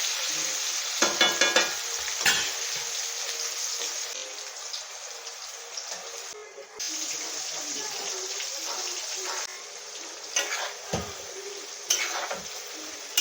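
Boiled elephant foot yam and bitter gourd fry in a pan with a loud, continuous sizzle, punctuated by stirring scrapes and clinks, with brief voices in the background.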